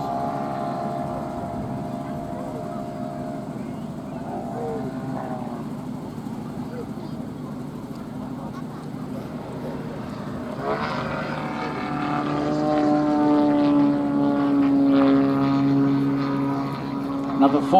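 Aerobatic airplane at an air show accelerating away from very low speed with a powerful smoke system, a steady propeller-engine drone that swells louder in the second half, heard under a commentator's voice.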